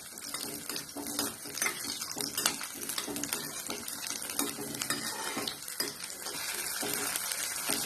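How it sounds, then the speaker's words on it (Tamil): Small onions frying in sesame oil for garlic chutney, a dense steady sizzle and crackle with light stirring scrapes against the pan throughout, close and continuous with no talking. "அதை போட்டு நல்லா வதக்கி விட்டுறலாம்."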